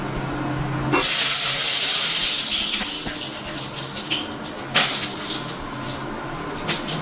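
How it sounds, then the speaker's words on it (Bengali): Black cumin (nigella) seeds hit smoking-hot oil for a tempering in a Bengali papaya and potato curry, setting off a sudden loud, close hiss that stays strong and then slowly eases, with small crackling spurts. "তো আমি এখন ফোড়নের যে কালো জিরাটা সেইটা আমি দিয়ে দিচ্ছি।"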